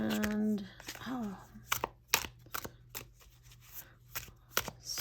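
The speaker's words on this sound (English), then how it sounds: "So I've got them shuffled fairly well within the deck." A Wandering Spirit tarot deck is shuffled by hand, giving a string of crisp card snaps and riffling flicks at an uneven rhythm, close and fairly quiet, with a brief voice near the start.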